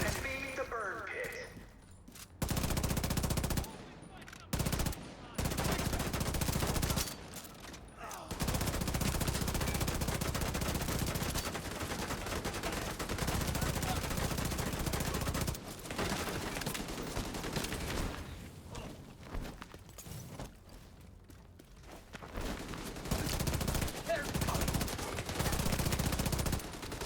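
Enemy machine-gun fire in the shooter game The Division 2, long sustained bursts of rapid automatic gunfire broken by brief pauses, dense and loud throughout, with a voice talking at times.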